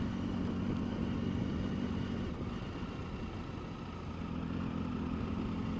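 A Triumph Tiger 1050 SE motorcycle engine held at steady throttle while riding, giving a continuous low, even drone with a rumbling pulse and wind noise, unbroken and fairly loud throughout.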